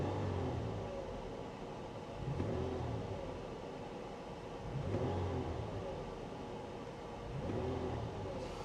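Toyota 4Runner engine fitted with a throttle controller revs in three repeated bursts, each rising and falling over an idle rumble, heard close with no talk.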